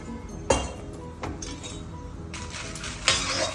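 Green chillies fry in oil in a pan for a tangy Andhra gongura chutney, a soft steady sizzle broken by a few sharp clinks of a utensil against the pan.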